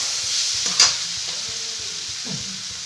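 Fried eggplant for begun bharta sizzles in a pan, with a steady close hiss, soft spoon scrapes and a brief louder burst of sputtering near the start, and no voices.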